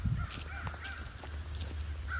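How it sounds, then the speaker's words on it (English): Crows caw a few times at a distance in a North Carolina mountain forest in fall, against a steady outdoor hiss of insects and wind. "We got the crows calling to us."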